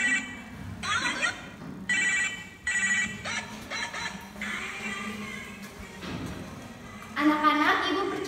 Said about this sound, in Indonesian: Sedang anteng mengawasi, tiba-tiba Bu Rahma mendapati ponselnya berdering.